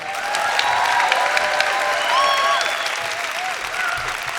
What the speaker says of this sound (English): Keep those applause going.